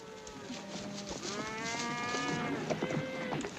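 Cattle in a herd on a western cattle drive moo loudly and repeatedly near a watering stop, with long overlapping bellows and no talking.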